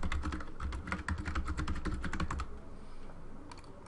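A password typed on a computer keyboard: a quick, close run of keystroke clicks, dense at first, then thinning to a few scattered taps over a quiet room hum.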